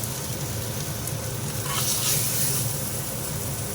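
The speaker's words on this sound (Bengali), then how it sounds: "একইভাবে আমি ভেজে নেব, অল্প করে ভেজে।" Koi fish fry in a pan of oil, giving a steady, moderately loud hiss and sizzle that holds evenly throughout, with no voices.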